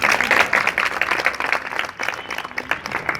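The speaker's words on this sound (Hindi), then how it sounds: "तो इनके लिए ज़ोरदार तालियां" Enthusiastic audience applause at a social organisation event in India, dense steady clapping from a crowd that holds strong throughout, with no talk over it.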